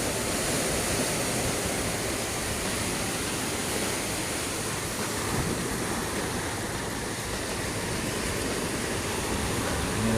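Ocean waves at Padang beach, which is lined with seawalls, heard as a steady, unbroken roar of surf that stays loud and even throughout with no voices.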